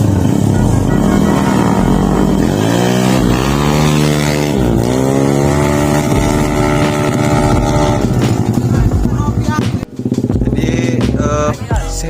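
A Honda Vario 180–200cc scooter with a racing exhaust revs up and down on a test ride, its engine note climbing and falling in repeated sweeps, loud and close, ending in rough, choppy throttle blips.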